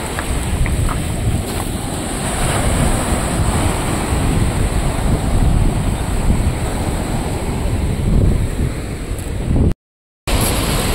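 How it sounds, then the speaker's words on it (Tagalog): Continuous roaring surf of big ocean waves at a beach in Lobo, Batangas, with heavy wind buffeting the microphone, waves crashing steadily throughout with no voices, briefly cutting out near the end. "Grabe na laki ng alon."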